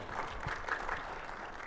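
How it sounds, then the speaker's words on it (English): Audience applause at a conference panel, a brief burst of steady clapping from a crowd, moderately faint. "Now he deserves he deserves a round of applause."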